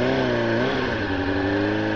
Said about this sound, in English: As you can see, my revs are high,